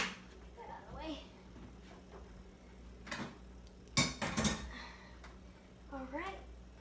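Pots and dishes are handled in a kitchen sink while cooking noodles, with scattered clinks and a few louder clattering knocks, under intermittent talking.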